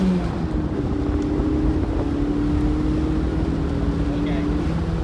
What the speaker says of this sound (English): we're just gonna floor it in first gear